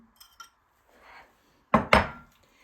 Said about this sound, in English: we're just going to take our Bisquick and we're going to put it right on in